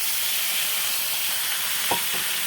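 Gourd stems and potatoes fry together in a pan, giving a steady close sizzle with a couple of brief scraping stirs near the end, no voices.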